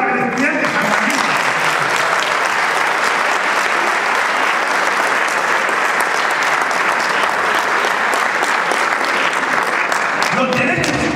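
A large audience at a human rights lecture in Guatemala applauds a university student, a loud, dense, sustained burst of clapping that holds steady for several seconds before fading near the end.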